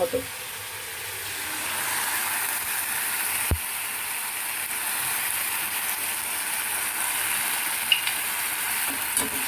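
Spices being stirred into egg korma in a pan, producing a soft steady sizzle with a faint ratcheting scrape and a few sharp taps of the spoon against the pan. The sound stays moderately quiet throughout.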